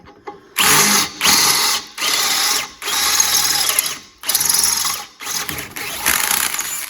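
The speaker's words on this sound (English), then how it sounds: "So I've drilled 2 of the holes, and they're 10mm now." Electric drill boring bolt holes for a Land Rover Defender TD5 rear exhaust, loud close whining in about six repeated bursts with short pauses between.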